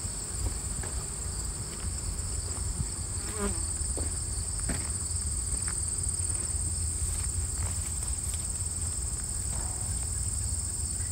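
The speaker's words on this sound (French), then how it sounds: "Fait qu'il y a quand même de l'activité aux ruches ce matin." Honeybees buzz steadily around a group of beehives outdoors on a morning, a dense continuous insect drone with a high whine, close and constant throughout with no talking.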